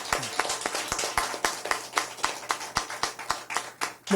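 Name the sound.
audience applause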